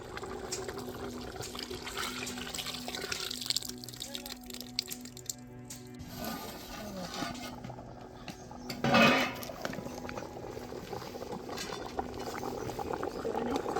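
Vegetables and lentils boiling in a pot, a steady bubbling simmer that runs throughout with a low hum and a brief louder surge midway, no clear speech.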